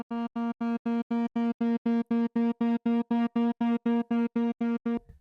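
A re-pitched, soloed sample chopped by Ableton Live's warp engine into a rhythmic stutter: a buzzy, harmonic-rich tone pulsing in even bursts of about four per second, steady and loud for five seconds, then cutting off, with no voices.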